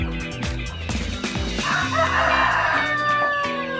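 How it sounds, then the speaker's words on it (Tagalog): Brahma chickens crowing and clucking in a backyard after rain, several birds calling at once in a busy, overlapping flock chorus that stays loud throughout. "Meron tayong Brahma chicken."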